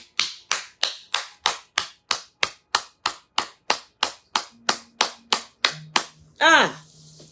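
A church congregation claps in steady unison during a French-language Pentecost service, about sixteen crisp beats at an even rhythm, loud and close, ending with a brief shout.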